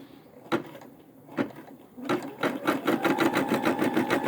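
A Brother SE600 embroidery machine stitches a quilt design, starting with a few isolated clunks before settling into a fast, even mechanical needle rhythm, close and steady.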